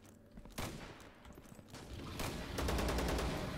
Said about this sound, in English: I can hear gunfire over that way.